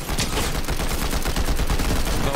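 Rapid gunfire in Fortnite aimed at an NPC, a dense unbroken burst of shots lasting throughout, loud and close.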